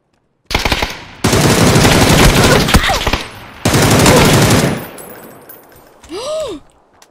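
Rapid automatic gunfire in PUBG, loud and close, comes in two long sustained bursts separated by a short pause, followed by a brief tonal game sound at the end.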